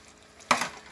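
Cooked chickpeas land in a hot pan of spices for an Indian-style vegan chickpea and lentil soup, giving one sudden, close sizzling splash that fades quickly, with no talking.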